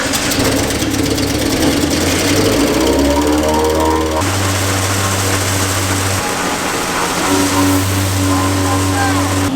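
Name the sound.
grain blower running on Case IH combine demo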